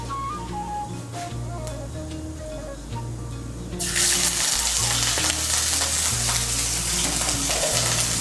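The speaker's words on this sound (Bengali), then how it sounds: "এর মধ্যে আমি দিয়ে দিচ্ছি 1 ছোট চামচ আদা বাটা।" Ginger paste drops into hot tempered spice oil in a pan for cauliflower dalna. A low hum runs at first, then a loud, bright sizzle bursts up and holds steady, close to the pan.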